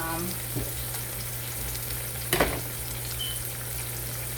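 Onion frying in a pan hisses in a steady, close sizzle throughout, with a short clatter partway through.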